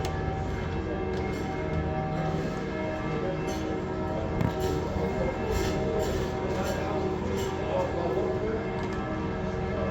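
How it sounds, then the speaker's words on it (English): Church bells ring in Jerusalem's Christian Quarter, a faint repeated metallic tolling under people talking and general street ambience. "Can you hear the bells?"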